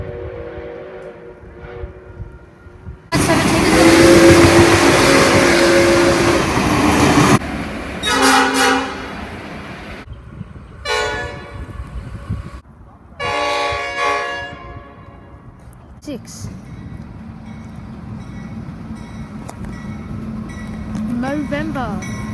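The Kaima picnic train's horn blasts loudly, then the train rumbles and clatters past in surges before fading, with voices faintly underneath.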